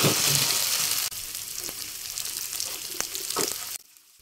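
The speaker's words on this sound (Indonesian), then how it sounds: "Setelah bumbunya mendidih kembali, masukkan nangka muda dan tahunya." Spice paste bubbling and sizzling in a pan as young jackfruit and tofu go in, a close hiss that drops in level, with soft clacks and stirring scrapes, then cuts to near silence.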